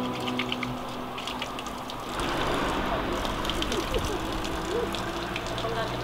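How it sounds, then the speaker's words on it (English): Water streams steadily from the Castalian Spring fountain at Delphi, a constant outdoor rush that grows a little louder midway, with faint voices in the background. "The first sign of their arrival at Delphi would have been this water fountain."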